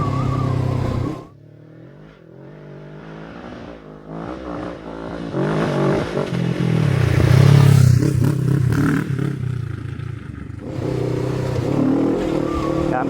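A Kawasaki NX500 motorcycle with a Stage 1 tune revs and accelerates, the pitch rising and falling as the rider shifts, with road noise and a swell of power midway.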